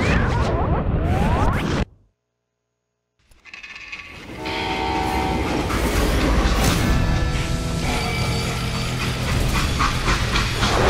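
A train rumbles and clatters loudly, cutting out to near silence for a moment, then resumes with steady rolling noise and metallic squeals or horn tones.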